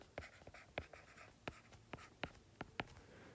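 Pen or pencil scratching out notes by hand on paper for geometry work, a run of quick close strokes and taps in an irregular rhythm over a quiet room, with no voices.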